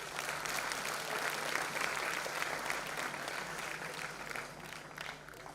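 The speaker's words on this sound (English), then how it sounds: "Having a big round of applause for Professor Lance." An audience at the IEEE Region 10 Humanitarian Technology Conference 2023 applauds Professor Lance with steady, dense clapping that fills the room evenly from start to finish.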